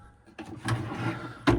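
A drawer in a 2020 Auto-Sleeper Broadway EB motorhome slides open or shut with a short wooden rumble, close and fairly quiet, ending in a soft knock.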